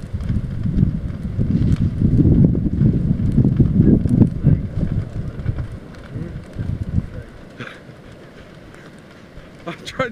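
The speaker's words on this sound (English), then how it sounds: "I don't like this wind today." Gusty wind blows outdoors at a barn burn, a loud broadband rush that roars strongest in the first half and then eases to a lower steady hiss, with people talking at moments over it.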